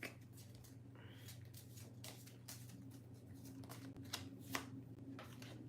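Oracle cards being shuffled in a quiet room, a soft run of riffling, flapping taps and bursts over a steady low hum, with no talking.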